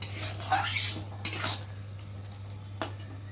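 A metal spoon stirs crab curry with potatoes in a pot, giving a few clinking scrapes and knocks against the pot side, loud at first and then sparser, over a low steady hum.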